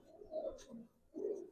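Pigeons cooing in cages, soft low throaty coos in two phrases separated by a brief pause, close and quiet with a faint chirp between them and no talk.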